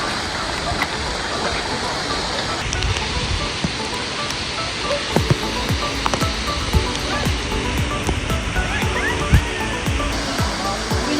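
Waterfall at Bumod falls in Sagada where many people are bathing, a steady loud rush of falling water with scattered splashes and faint voices of bathers mixed into the roar.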